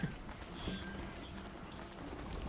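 A horse mount gallops in the video game Horizon Zero Dawn, its rapid, quiet hoofbeats clip-clopping in a continuous run beneath faint background noise.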